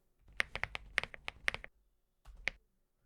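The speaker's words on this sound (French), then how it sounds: "Désolé à ceux qui détestent mon son de clavier." Keyboard keys clacking in a quick burst of about a dozen strokes, a short pause, then a few more taps, close and fairly quiet, with no voices.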